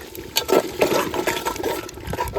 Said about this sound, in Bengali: এবার দিয়ে দেবো জল মামা